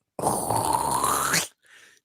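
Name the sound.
voice imitating canned cranberry sauce sliding out of a can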